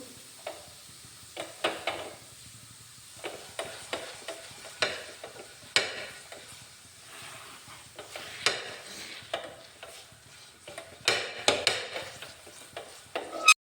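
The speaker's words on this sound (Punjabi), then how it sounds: "ਅੱਧਾ ਨਿੰਬੂ ਲੈ ਕੇ ਇਹਨੂੰ ਚੰਗੀ ਤਰ੍ਹਾਂ ਨਾਲ ਤੁਸੀਂ ਸਾਰੇ ਤਵੇ ਦੇ ਉੱਤੇ ਲਗਾ ਦਿਓ" A burnt iron griddle is scrubbed with half a lemon and baking soda, giving irregular scraping, rubbing and clinking strokes of varying loudness with short quiet gaps between them and no talking.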